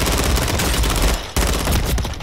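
Sustained rapid submachine gun fire in Call of Duty, loud and dense, with a short break midway before the burst resumes.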